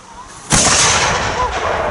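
A single loud, sharp musket volley cracks out after a brief quiet lull, then rumbles and echoes away outdoors.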